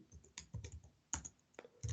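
Typing on a computer keyboard, quiet close clicks in short uneven bursts with pauses between, alone.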